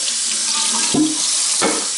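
Running tap water splashes steadily over Berkey water filter parts being rinsed at a sink, a continuous broadband rush with a couple of brief heavier splashes as pieces pass under the stream.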